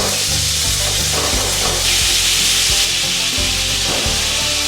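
Ground beef sizzles and crackles loudly in hot oil in a pan, with repeated scraping and stirring strokes as the meat is broken up, steady frying hiss throughout and no talking.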